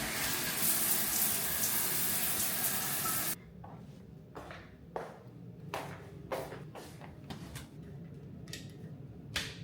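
Shower water runs as a loud, steady hiss for a few seconds and then cuts off abruptly, leaving a quiet room with scattered clicks, taps and drips.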